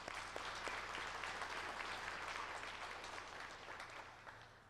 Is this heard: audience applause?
yes